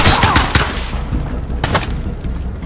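Gunfire in the tactical shooter Ready or Not, loud rapid bursts of shots in quick succession up close, followed by sparser shots and lingering echoes.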